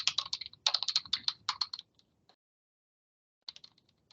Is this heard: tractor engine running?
no